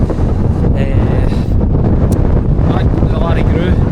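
Strong, cold mountain wind batters the microphone in a steady, roaring rush on the exposed ridge of Braeriach in the Cairngorms, continuous and loud throughout with no talk.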